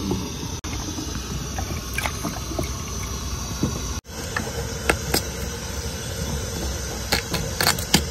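Rice boiling in a pot gives a steady bubbling crackle with scattered sharp pops, close and fairly loud throughout with no talk over it.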